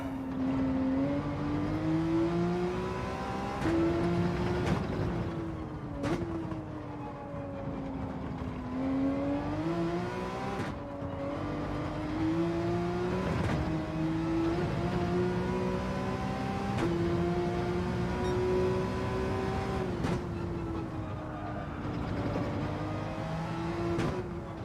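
A Porsche race car engine in Gran Turismo 7 drones loud and close the whole time, its pitch rising and falling through repeated gear changes with sharp shift clicks between pulls.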